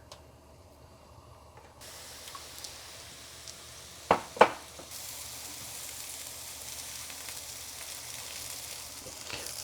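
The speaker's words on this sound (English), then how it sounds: "All right, I guess our skillet is hot enough to start sauteing our eggplant." Eggplant sizzles in a hot skillet, a soft steady frying hiss that grows fuller after a few seconds, with two brief clatters from utensils or pieces landing in the pan.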